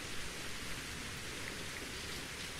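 Steady rain pours in the survival game Survival: Postapocalypse Now, a soft, even hiss of falling drops throughout with no other sound standing out.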